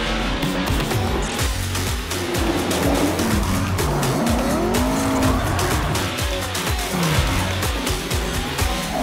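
Formula Drift pro drift cars at practice in Long Beach, engines roaring loud and continuous with long tire squeals and skids sweeping in and out.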